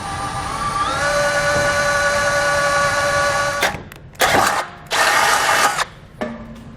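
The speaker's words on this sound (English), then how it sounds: "We'll then take a 1/2-inch drill bit and drill those out." A power drill with a 1/2-inch bit bores holes through the pinch weld of a 2019 GMC Acadia during a base plate install: a long steady whine, then several loud, choppy bursts of cutting noise close by.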